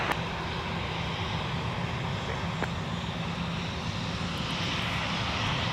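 A Delta airliner taking off at Minneapolis–St. Paul Airport on runway 17, its jet engines a broad, steady roar that holds throughout, heard from a distance and fairly loud, with no voices over it.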